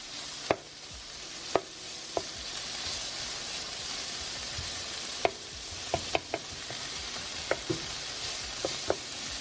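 Beans and bacon cook together in a pan with a soft continuous sizzle, broken by sharp clinks and scrapes of a utensil stirring at irregular intervals.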